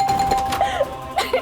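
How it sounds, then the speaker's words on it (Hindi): Doorbell chiming at night in a home in the Hindi sitcom Wagle ki Duniya, a clear two-tone ding-dong rung twice in quick succession, close and fairly loud over a low room hum. "इतनी रात को घंटी कौन बजा रहा है?"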